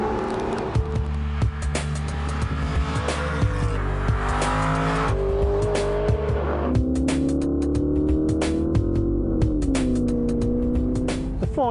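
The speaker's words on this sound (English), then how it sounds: "Aston Martin is now bringing me a Virage convertible for an afternoon drive in the countryside" Aston Martin Virage convertible with a 490 brake horsepower engine driving on countryside roads, its engine droning steadily and shifting pitch as it accelerates and settles, with a brief tire-squeal edge, loud and close throughout.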